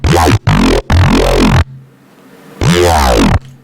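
A Massive synthesizer preset played dry with all effects switched off: loud sustained tonal notes in three quick bursts, a short pause, then one more held note.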